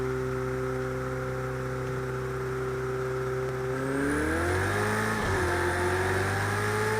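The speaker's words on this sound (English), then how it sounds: "Even driving out of the pit now with the pit limiter engaged" A race car in Project Cars 2 hums steadily out of the pit with the pit limiter engaged, a held engine drone that rises and revs up as it pulls away, whining louder toward the end.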